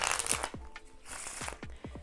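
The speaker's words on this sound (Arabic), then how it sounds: "خلونا نلخبطها علشان نتأكد ان مفيش فيها اي ترتيب." A deck of playing cards is shuffled up close, with quick riffling crackles and a series of soft rhythmic flicks and thumps, quiet and without talk.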